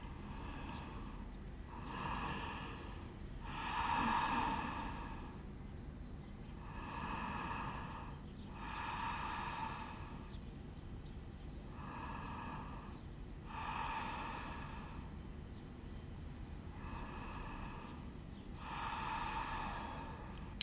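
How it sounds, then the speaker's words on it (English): Slow, deep breaths drawn in and pushed out in a steady rhythm during a yoga forward stretch, forearms down and head resting on a block; about eight soft, airy breath sounds, close and quiet, with no talking. "Let's take 3 deep breaths here."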